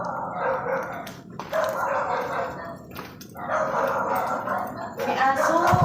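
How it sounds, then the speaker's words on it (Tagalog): A dog barks repeatedly in bursts at night during a creepy ghost-hunting outing, the barks loud and close and mixed with background noise, with people talking nearby. "May aso."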